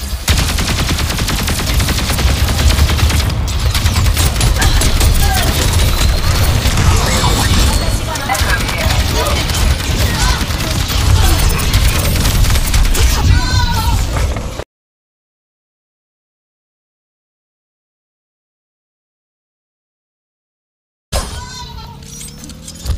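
Overwatch gunfire rattles in dense, rapid bursts for about fourteen seconds, loud and continuous, then cuts to silence before a brief return of game sound at the end.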